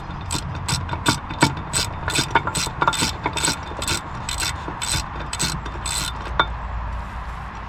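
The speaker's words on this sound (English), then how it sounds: "And then start removing bolts." A ratchet wrench loosening bolts on the water pump of a 1997 Mercury Mariner 60HP outboard, with rapid rhythmic clicking bursts over a low mechanical background, close and clear, with no talking.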